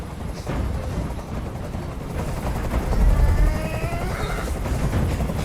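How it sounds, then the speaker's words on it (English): Helicopter rotors thrum over a dense wash of low rumble and crackling, like gunfire and tension in the game Detroit: Become Human, steady and loud throughout with no speech. "Tell that helicopter to get out of here."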